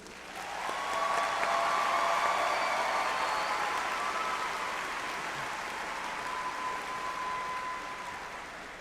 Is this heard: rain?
no